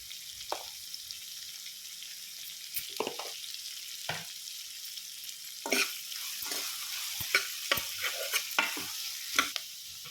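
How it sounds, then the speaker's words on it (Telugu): Okra and radish cooking in oil in a pan with stirring scrapes and soft sizzling, quiet and close, broken by a few sharper clinks of a spoon against the vessel. "ఆయిల్లో మంచిగా మగ్గించుకోండి"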